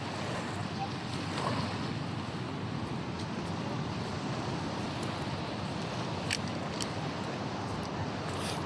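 Big sea waves wash around a small boat, a constant roar of surf and water blended with heavy wind buffeting the microphone, steady and close, with no clear speech.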